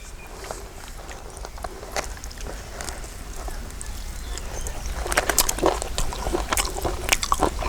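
Someone eats Tamil village chicken gravy (nattu kozhi kulambu). Soft, squishy bites and crunches repeat close up and grow louder and denser toward the end, with no talking.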